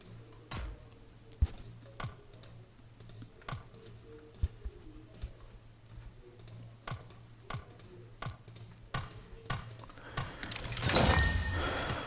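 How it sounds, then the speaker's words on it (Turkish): A computer mouse clicks rapidly and unevenly during a PUBG Mobile session, sharp close taps with keyboard-like rattling, then a louder burst of rustling near the end. "Biraz fazla ses çıkartıyor mouse"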